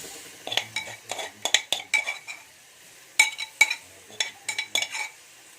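Metal utensil clinks and scrapes while mashing and stirring garlic in a pan for a dried molokhia dish, irregular close clatters in clustered bursts with quiet gaps between.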